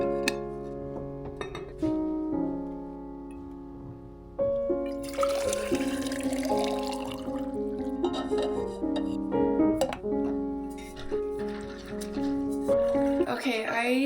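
Water pours from a tap into a kettle and then a water bottle in a home kitchen, a filling stream with rising pitch, light clinks and handling knocks between pours, close and clear.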